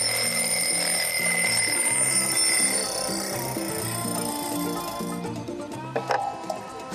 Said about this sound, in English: I've got a little alarm clock here, which I'm going to set off